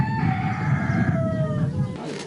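A rooster crows in the morning in an old stone village at Bordj Bou Arreridj, Algeria: one drawn-out, clear cock-a-doodle-doo close by, with a brief cluck-like tail.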